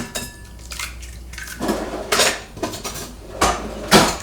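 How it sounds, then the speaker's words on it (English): Two eggs whisked in a bowl for spaetzle dough, with a utensil clinking and scraping against the bowl in uneven bursts, growing louder toward the end, close and alone. "Whisking the eggs slightly."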